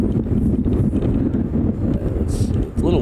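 Gusty wind buffets the microphone outdoors at Kahului Airport on Maui, Hawaii, a heavy low rumble rising and falling continuously, with a brief lull near the end.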